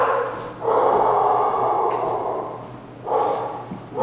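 A dog barks in two drawn-out, raspy bursts at fairly close range indoors, with a short quiet pause between them and no talk.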